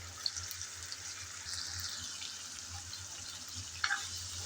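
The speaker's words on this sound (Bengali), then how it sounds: "নেড়ে চেড়ে লাল লাল করে এই চিকেন ভেজে নিতে হবে।" Chicken pieces shallow-fry in a pan over medium heat with a soft, steady crackling hiss and a couple of faint stirring taps, all fairly quiet and unbroken.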